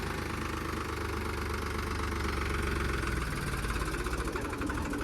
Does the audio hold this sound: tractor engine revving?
yes